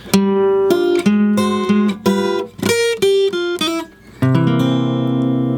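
Clean guitar picks a bluesy turnaround lick, notes spaced evenly then slowing down, ending on a sustained ringing chord.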